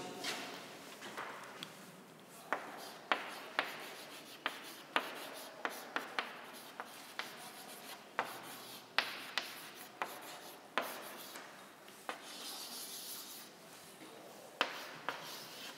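A marker or chalk writes the names of cement compounds on a board: soft scratchy strokes broken by sharp taps, quiet and close, with no talking.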